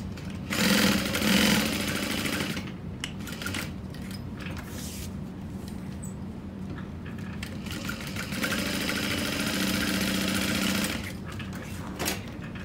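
A sewing machine runs in long steady bursts while stitching along a box line on a Victoria wristlet, a close whirring hum with brief pauses and no talk.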